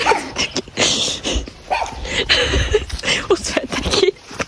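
Several dogs bark and yip in short, irregular bursts at a campsite, close and loud, with people talking in French among the barks.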